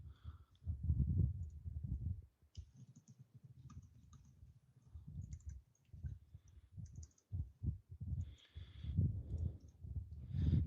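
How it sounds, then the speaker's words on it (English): Someone types fast on a computer keyboard nearby, with rapid irregular clicking and clattering in bursts and brief pauses between flurries. "I can actually type furiously now."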